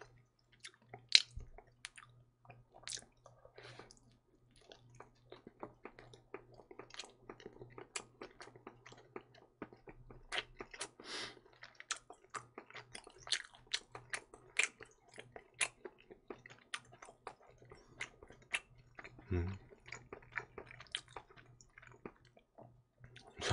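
Close, wet chewing and biting of Ottogi frozen combination pizza, with irregular soft squishy mouth sounds repeating across the whole stretch over a faint low background hum.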